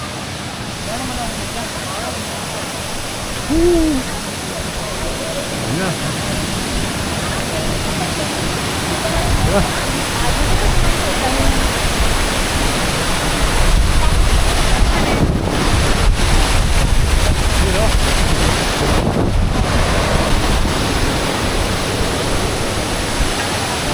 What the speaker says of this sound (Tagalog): Ito yung isa sa mga waterfalls na nakita natin na mataas at saka malapit lang